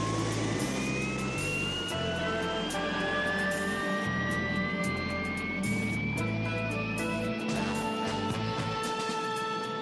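A jet plane's engine roars and whines steadily at close range, with rising tonal whistles over a constant low rumble and no voices.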